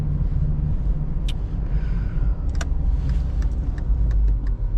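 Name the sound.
Mercedes-Benz 200TE S124 car, 4-cylinder petrol engine driving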